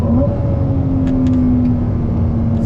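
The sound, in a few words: Ferrari 296 GTB turbocharged engine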